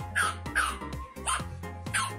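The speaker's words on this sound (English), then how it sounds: "Bark all day, puppy." A puppy barks four times in quick succession, sharp and close, each bark short with a slight whine, spaced about half a second apart.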